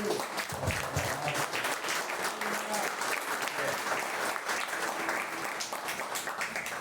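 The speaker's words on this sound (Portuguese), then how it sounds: "Quantos podem aplaudir o Senhor?" Church congregation at a Thursday revival service applauding together, a dense, sustained wash of clapping lasting throughout.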